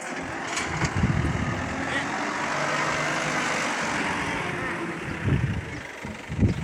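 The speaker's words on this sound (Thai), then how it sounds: "ตกใจรถครับผม รถไถคันเบอร์เลยครับ" A big farm tractor engine rumbles past outdoors after rain, a low, heavy drone swelling and fading with louder bursts near the start and end, while a voice speaks over it.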